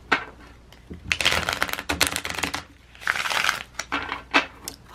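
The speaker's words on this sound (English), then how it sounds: "One more shuffle." A deck of tarot cards shuffled by hand up close, repeated papery riffles and slides in uneven bursts with brief gaps between them.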